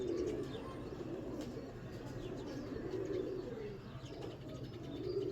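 Pigeons kept in a loft with their young coo in low, soft repeated phrases against a steady hum of background noise, with a few faint chirps.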